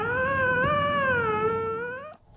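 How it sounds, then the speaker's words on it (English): A puppy gives a drawn-out, wavering cat-like whine, one loud sustained cry rising and falling in pitch before cutting off abruptly, close to the microphone. "So the first is, of course, his puppy Basil."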